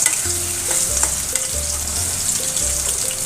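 Diced potatoes fry in hot oil for a pumpkin chhokka, a steady close sizzle with low tonal hum pulses beneath, no voices.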